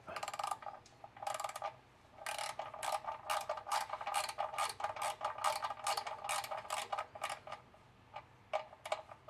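A 13mm ratchet clicks in quick bursts of pawl ticks while working under a 2020 Ford Ranger 2.0 diesel during an oil and filter change, close and crisp with brief pauses between strokes.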